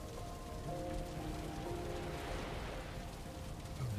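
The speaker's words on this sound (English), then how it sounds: "It's raining so hard outside, it is insane." Heavy rain pouring outside, a dense, steady hiss of drops on surfaces that stays even and continuous throughout, with no voices.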